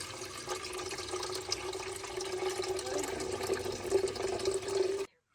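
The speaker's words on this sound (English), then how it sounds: "let me fill this with water first" Tap water pours steadily into a kettle in a camper, a continuous rushing stream whose pitch rises slightly as it fills, then abruptly stops.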